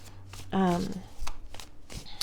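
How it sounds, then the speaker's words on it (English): Tarot cards are shuffled in a quick riffle-like burst of flutters and slaps, close and fairly loud, followed by softer handling clicks, with a faint voice underneath. "So we'll shuffle with a little more intention here."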